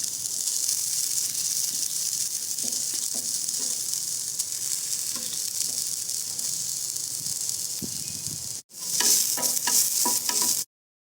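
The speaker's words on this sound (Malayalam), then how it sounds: "തേങ്ങ ഒന്ന് നല്ലപോലെ മൂപ്പിച്ച് വറുത്തതിന് ശേഷം അതും കൂടെ ചേർത്ത് കൊടുക്കാം" Grated coconut frying in hot oil with mustard seeds for a Kerala papaya erissery curry, a steady close sizzle and hiss with occasional stirring scrapes, briefly cutting out before a brighter burst of sizzling.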